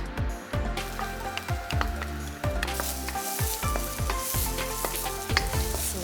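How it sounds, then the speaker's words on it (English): Loud, continuous sizzling of aromatics in a hot wok with repeated scraping and tossing strokes, close up and with no voices. "So let that all sizzle around."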